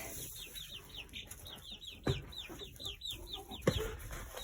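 Chickens and roosters cluck in a repeated, chattering run of calls over steady farmyard background, with two sharper louder bursts partway through; no one speaks.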